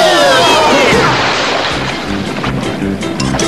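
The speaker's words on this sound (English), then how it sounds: "That's the sound of the dock crumbling beneath our feet." A cartoon wooden dock collapses: a loud, rumbling crash of wood splintering, with heavy broadband crunching that continues steadily for several seconds.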